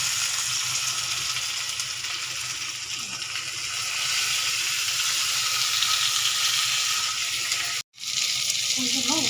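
Onions and tomatoes sauté in a pan with a steady, close frying sizzle that holds through, cut briefly by a short silent gap near the end.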